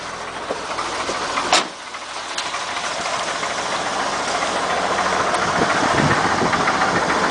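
A Chevrolet K30 truck's 292 inline-six idles steadily and close by, its rough, even running broken by one sharp transient near the start.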